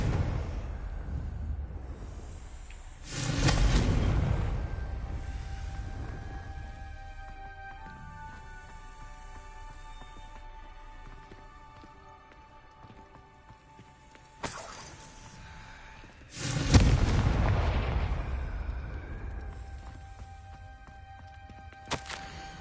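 Hogwarts Legacy Confringo fire spell going off in the game: two loud, broadband blasts a dozen seconds apart, each swelling and rolling on for a couple of seconds over faint ambient music and quiet effects.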